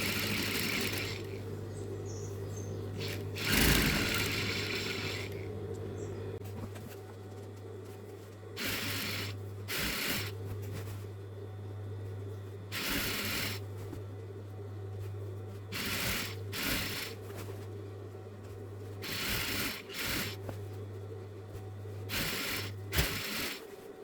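A sewing machine stitches fabric placemats in short repeated bursts of rapid mechanical chatter, separated by pauses where the cloth is adjusted, over a steady low hum.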